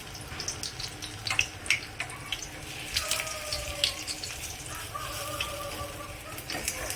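Bread slices dipped in besan batter fry in hot oil, giving a steady, fairly quiet hiss and crackle with scattered pops throughout, close by.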